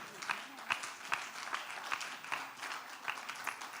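Steady applause from an audience fills the space, with a voice speaking over the clapping.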